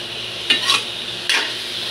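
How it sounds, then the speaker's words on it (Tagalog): Pork frying in its own rendered fat in a pan while being cooked to golden brown for adobo, a steady close sizzle with two brief scraping stirs of a utensil. "Payanan natin itong mag-golden brown yung ating pork at palabasin natin sa sarili ng mantika"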